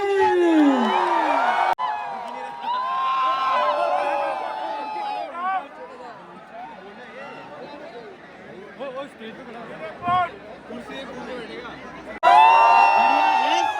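A tech fest crowd welcomes a speaker onstage with a dense wash of cheering, whoops and shouting, loud and continuous, fading somewhat mid-way before surging again at the end.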